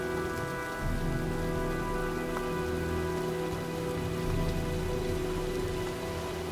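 Storm rain pours down in the video game Heavy Rain, a steady dense patter of drops on surfaces with a low hum underneath, loud and continuous throughout.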